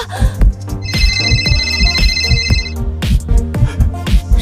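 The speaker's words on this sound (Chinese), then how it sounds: "史密斯先生，总部打来的电话。" A phone ringtone chimes loudly in a repeating electronic pattern over a pulsing music backdrop.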